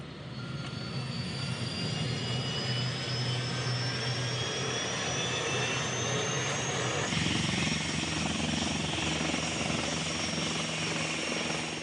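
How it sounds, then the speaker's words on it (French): A Tigre military attack helicopter flying, its turbine whine and rotor drone loud and continuous throughout, with a slight shift in pitch partway through as it passes close. "Aux commandes de leur hélicoptère Tigre, Brice et son équipier neutralisaient leurs adversaires"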